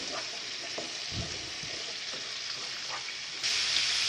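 Chicken biryani masala mixed with coriander and mint leaves in a hot pan, giving a steady low sizzle with faint stirring scrapes throughout, close and alone, growing slightly louder near the end.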